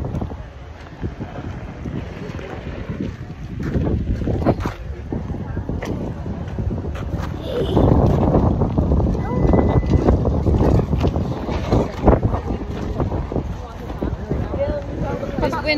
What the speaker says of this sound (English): Why is it so windy?